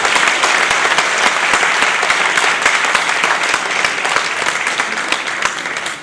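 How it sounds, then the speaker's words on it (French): A crowd at an association's inauguration event applauds loudly and steadily, the dense clapping holding for several seconds and easing slightly toward the end. "Donc on l'applaudit encore une fois bien fort"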